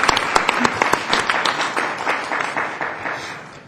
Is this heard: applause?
yes